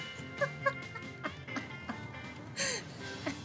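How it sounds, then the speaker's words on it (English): Short hooting-clucking bird calls from an owl in Final Fantasy VII Rebirth, two quick calls near the start and a few more scattered, faint, over low background game ambience. "Oh, an owl."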